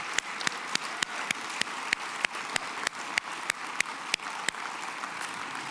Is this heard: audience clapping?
yes